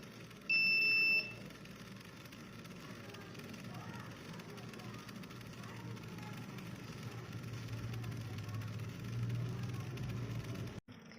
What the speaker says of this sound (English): As soon as I switch on the system, the buzzer will be on for 2 times